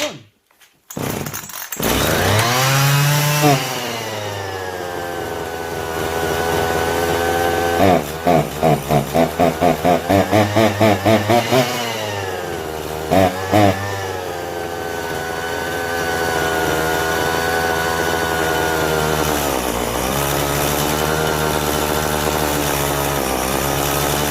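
A chainsaw brought in by a subscriber for repair is pulled and sputters into life. Its engine then runs steadily, with bursts of revving and choppy throttle blips before settling into a sustained buzz.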